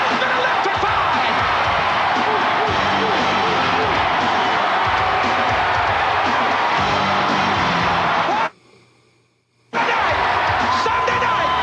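A packed wrestling arena crowd in 1992 roars and cheers continuously as a new heavyweight champion is crowned. The broad, loud roar breaks off for about a second near the end, then resumes.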